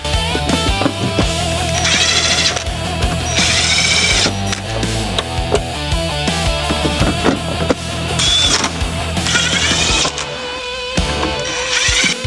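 A power tool drives the 10mm nuts that hold the tail lights on a 2022–2026 Jeep Grand Cherokee, giving a loud, steady mechanical whir with bursts of changing pitch. It runs almost without pause, and no one speaks.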